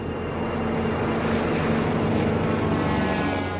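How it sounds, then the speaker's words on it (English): A test airplane climbing, its engines a steady, loud, unbroken drone that holds for several seconds with no voices over it. "As the test plane climbs, Schettini takes it over an unpopulated area, just in case."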